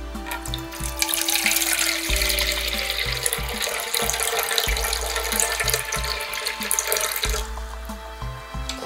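Water runs from a kitchen tap into a container for pizza dough, a steady splashing flow with small clinks and shifts as it fills.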